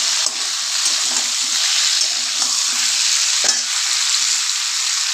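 A hilsa head and pumpkin curry, just salted, sizzles loudly and steadily in a pan while a utensil scrapes and stirs it in short bursts. No one speaks.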